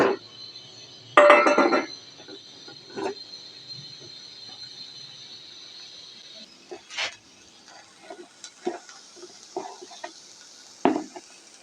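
Metal utensil scraping and clinking while lightly mashing potatoes with beef fat in a small, broken pan, with a burst of harsh scraping early, then intermittent softer taps and scrapes.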